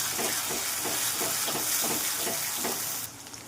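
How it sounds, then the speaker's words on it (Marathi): Onion and tomato frying in oil for a bitter gourd dish, a loud steady sizzle and hiss with faint rhythmic stirring scrapes, cut off abruptly near the end. "बघू शकता व्यवस्थित फ्राय झालेला आहे टोमॅटो"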